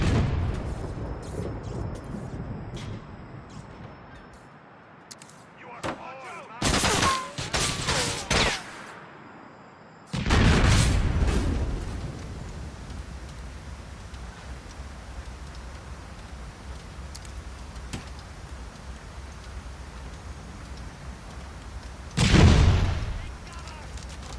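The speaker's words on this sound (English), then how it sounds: "So toss a couple of grenades and let's see what happens here." Grenade blasts and gunfire in GTA 4: The Ballad of Gay Tony, several heavy booming explosions and bursts of shots spread across a rumbling game scene, the loudest blasts midway and near the end.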